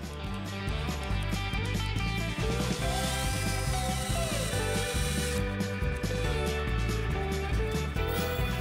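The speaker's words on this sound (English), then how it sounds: "I did that by drilling half-inch holes for the plugs" A power drill whirs steadily and loudly, boring half-inch holes through a wooden sign board, its motor pitch wavering slightly as it bites in, with no voices.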